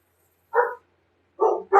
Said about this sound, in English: What's my dog barking? What does he want?